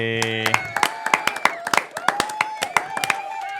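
An audience claps for a podcast guest arrival, a quick run of sharp, close handclaps with brief whoops layered over tonal music at the start.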